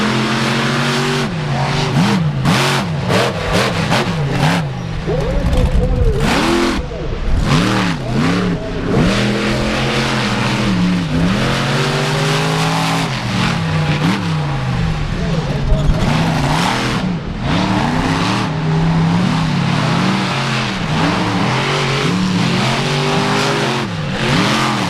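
Mopar Muscle and Raminator monster trucks drag race at the 4-Wheel Jamboree Nationals in Indianapolis, engines revving and roaring loudly with rising and falling pitch throughout, under crowd and announcer noise.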